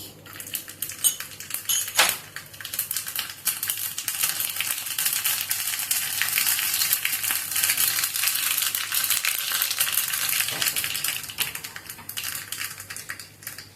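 Mustard seeds crackle and pop in hot oil in a home kitchen while a Kerala ginger curry (inji curry) is made for an Onam sadya. The close, busy spatter runs steadily throughout and fades a little at the end.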